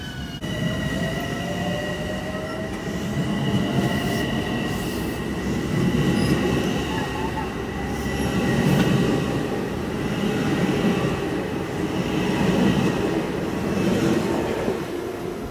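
An LIRR/Metro-North diesel train passes close by with a loud, sustained rumble, rolling wheel noise and thin metallic squeals that rise and fall over about fifteen seconds, with no talking.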